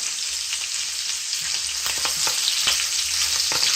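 Green chili and curry leaves sauté in hot oil for a salmon curry, a steady crackling sizzle with spoon scrapes and stirring taps clustered in the second half.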